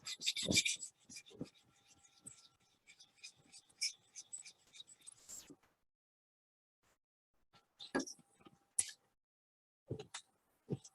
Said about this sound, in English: I use a little diamond sharpener to just get rid of it.